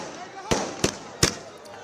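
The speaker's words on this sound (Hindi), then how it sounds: "सरयू तट पर दीपोत्सव मनाया जा रहा है, आतिशबाजी की जा रही है।" Fireworks bursting over the Saryu river bank in Ayodhya during a Deepotsav celebration, three sharp distant bangs spaced about half a second apart over a low crowd murmur.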